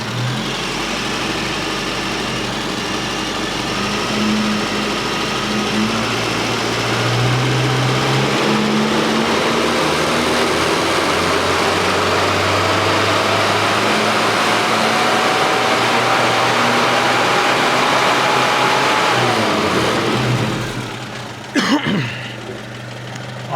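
A Mini's engine runs continuously during tuning and climbs steadily through its rev range, with a rising pitch and a sustained, even drone. Near the end it cuts back sharply, followed by a few brief clunks.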